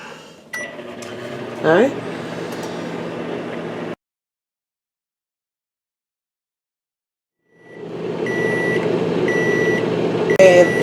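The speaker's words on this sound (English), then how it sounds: "Microwave it for about a minute." A kitchen microwave hums steadily while heating a sugar mixture for sushi rice, cuts to silence for a few seconds, then starts running again with faint periodic beeps. A brief spoken word comes over the first stretch.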